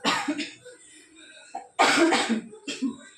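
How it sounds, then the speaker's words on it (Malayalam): Several harsh coughs close by, a short burst, then a louder double cough after a pause and one more near the end. "ചുമ"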